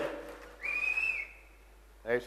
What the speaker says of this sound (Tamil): whistle whistle